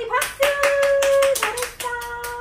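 Young children clap together at a home English reading lesson, making a few quick rhythmic claps close by, mixed with a bright sung or spoken voice.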